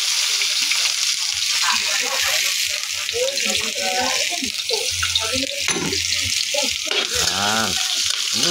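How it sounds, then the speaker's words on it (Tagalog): Ginger and onion frying in hot oil for crab Bicol Express, a steady broad hiss of sizzling that runs throughout, with someone talking over it. "lagyan na natin ng luya at sibuyas"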